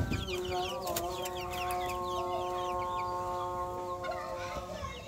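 Chickens in a small backyard coop cluck and chatter steadily at moderate distance, with children's voices and other birds audible in the background.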